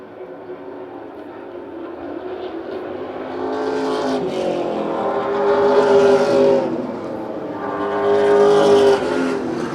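Race cars circle a track, engine roar swelling twice as cars sweep close past and fading between passes, loud and revving throughout.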